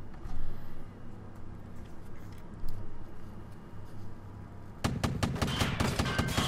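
Gunfire in the tactical game Silent Storm: Sentinels: a quiet stretch gives way to a sudden flurry of sharp, crackling shots in the last couple of seconds.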